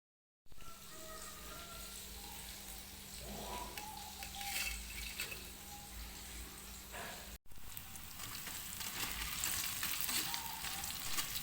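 Crispy oyster mushrooms fry in hot oil, a steady bright sizzle and crackle heard up close, with occasional clinks of a utensil and no talking.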